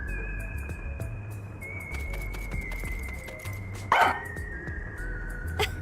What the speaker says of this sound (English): So I looked around and noticed Sugar barking at this room